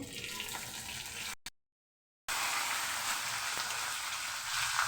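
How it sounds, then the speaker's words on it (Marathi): Cumin seeds and curry leaves sizzle in hot oil in a pan for a paneer curry, a steady loud hiss that cuts out briefly to silence midway and then resumes. "टाकत आहे जिरे कढीपत्ता टाकत आहे"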